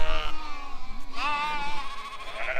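Lambs bleat in a shed during weighing, two or three loud, close, wavering cries following one another over low background rumble, with no talking.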